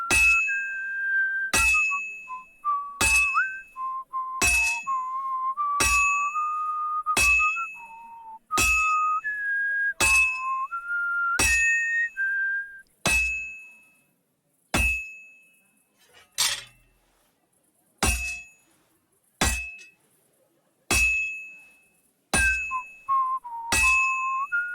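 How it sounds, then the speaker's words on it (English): Blacksmith hammer strikes on metal in Kingdom Come Deliverance 2, sharp regular clangs about every second or so, with a man whistling a wandering tune between and over the blows. "Lads, imagine someone blacksmithing this early hours of the morning."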